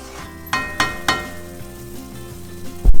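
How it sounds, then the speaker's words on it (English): Mutton masala spices with red chili powder sauté in a pan, a low steady sizzle broken by a few sharp clinks of a spoon against metal, with a louder scrape at the end. "I'm going to saute it for a bit."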